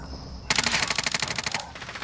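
Rapid automatic gunfire in the video game Call of Duty: Modern Warfare: a close, loud burst of about a dozen evenly spaced shots lasting just over a second.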